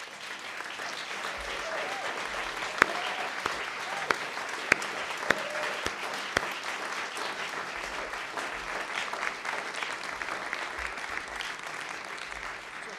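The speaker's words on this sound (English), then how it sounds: "Please give an applause to the team here" An audience applauds the film team at a summit screening, a steady wash of clapping with a few sharp close claps standing out, lasting throughout.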